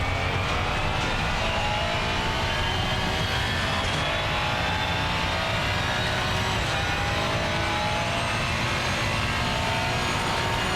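Race car engine at wide open throttle on a hill climb, a loud continuous roar that rises steadily in pitch as it accelerates through the gear, close and alone with no talking.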